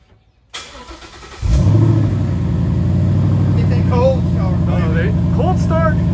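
A car with a stock dual exhaust cold-starts: a brief crank, then the engine catches at about a second and a half and settles into a steady, loud idle, while people talk over it.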